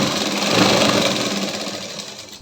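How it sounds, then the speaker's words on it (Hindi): A sewing machine runs a steady whirring stitch along the folded edge of a fabric half-collar neckline, holding close and even for about two seconds before easing off at the end. "प्रॉपर फोल्ड देने के बाद हम इसमें भी किनारे पे सिलाई लगाएंगे"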